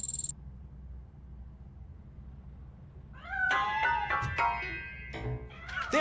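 A cat meows several times in a RoboCop: Rogue City game scene, a run of fairly close, clear, rising and falling cries over a low steady background hum.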